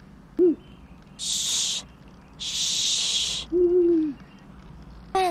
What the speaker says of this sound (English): We don't want the owl calling Winfrieda again.